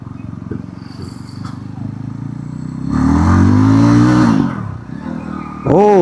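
A 350cc cruiser motorcycle engine idles with a throbbing beat, then revs up loudly for a couple of seconds before dropping back, and blips again at the end; someone talks over it.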